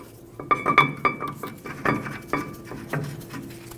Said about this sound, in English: Put your caliper bracket over the axle and have at least one of the bolts ready to start it in